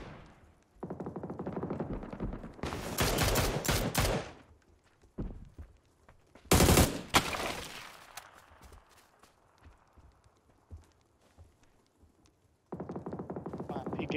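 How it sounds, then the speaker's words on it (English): Gunfire from enemy players in a PUBG console match, sharp loud bursts of shots coming in separate clusters with quieter scattered footsteps and movement in between. "There's a guy shooting from on the windows as well."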